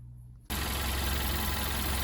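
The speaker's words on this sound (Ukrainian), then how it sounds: "Ось так працює двигун після заміни цепа." A VW Golf V 1.4 TSI engine running after a timing chain replacement cuts in abruptly after a quiet start, then holds a loud, close, steady idle hum with an even mechanical texture.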